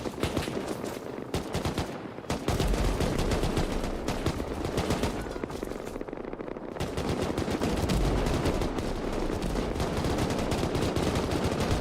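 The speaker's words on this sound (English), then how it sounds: "And a lot of cannon fire starting to ring off right now." Dense, relentless gunfire and cannon blasts ring out during a naval battle event in the video game Rust, with rapid overlapping bursts continuing loudly for about twelve seconds without pause.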